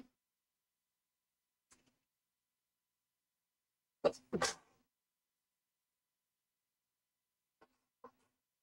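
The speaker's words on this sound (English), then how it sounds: "I got to sneeze." A single sharp sneeze bursts out in a quiet room, close and loud, with a quick double push, flanked by a few faint breaths and small sounds before and after.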